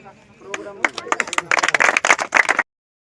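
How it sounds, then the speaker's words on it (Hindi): An audience at a village gathering claps, starting with scattered hands that swell into dense applause, then stops abruptly. A voice speaks over the start. "जोरदार तालियों के साथ सहयोग करें"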